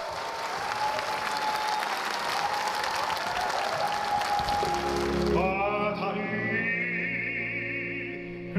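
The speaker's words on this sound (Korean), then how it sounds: "공간을 가득 메우는 웅장한 소리와 열정적인 지휘에 박수갈채가 쏟아집니다" An audience bursts into dense, loud applause after an operatic performance with a conductor, the clapping filling the hall for about five seconds before music takes over.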